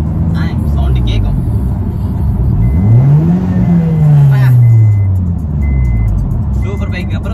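A car engine drones and rises in pitch as it revs while driving, with a faint intermittent beeping in the background.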